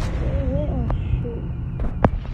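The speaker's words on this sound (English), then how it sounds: "what is it called? These fire grenades." Fire grenades burst in Call of Duty Mobile, with a few sharp pops and a louder blast near the end over a steady game soundscape and a voice.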